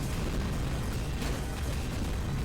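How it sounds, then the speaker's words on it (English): Explosions in the roguelike first-person shooter Tower of Guns, a dense, continuous low rumble of blasts that fills the whole stretch at steady loudness, with no voices. "those explosions are big enough that they can hit me through the door"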